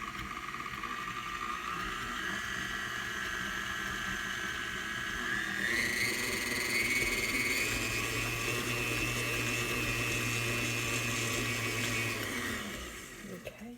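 A tilt-head KitchenAid stand mixer beats pumpkin bar batter with a steady motor whine. The whine rises in pitch partway through as the speed goes up, holds, then winds down and stops near the end.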